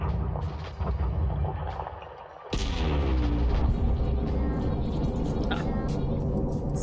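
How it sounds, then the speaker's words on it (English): An asteroid blows apart in the space game Elite: Dangerous during mining, a sudden loud blast partway through that swells into a sustained, heavy rumble over the steady ship ambience. "I just love the explosions."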